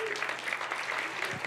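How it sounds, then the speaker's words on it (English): Brief burst of audience applause at a storytelling slam event, a steady wash of many hands clapping at fairly close range with no clear talk on top. "Let's give her a round of applause."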